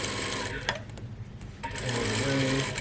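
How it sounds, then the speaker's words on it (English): A sewing machine runs steadily, stitching lining fabric for a beginner overgarment, its rapid needle chatter continuous and fairly close with a brief pause midway. "So I'm sewing all the way,"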